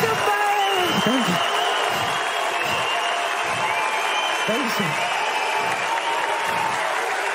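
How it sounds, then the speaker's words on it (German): Applause for dancers at a televised singing competition, steady crowd clapping running throughout while a host speaks over it and a thank-you is called out. "Ein Applaus für die Tänzer, bitte!"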